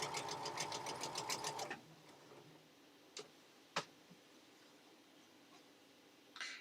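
Sewing machine stitching with red bobbin thread: a rapid, even run of mechanical ticks for under two seconds, then stopping, followed by quiet room tone with a few isolated clicks.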